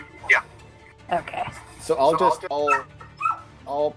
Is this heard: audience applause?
no